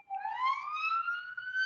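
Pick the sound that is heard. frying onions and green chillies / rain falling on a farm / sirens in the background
sirens in the background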